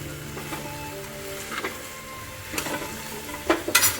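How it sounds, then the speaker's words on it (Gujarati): Carrots and beetroot sauté in ghee with a steady sizzle and fry, stirred through with scraping and clinks of a spoon against the pan that grow louder toward the end. "પાંચથી સાત મિનિટ ઘીમાં સાંતળવાના છે"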